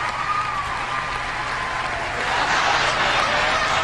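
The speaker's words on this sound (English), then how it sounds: "You just mind your own business while I get the cheer sounds for Alex." Crowd cheering and applause sound effect, a steady wash of many voices and clapping that swells louder toward the end, played to celebrate a Pokémon VGC US national champion.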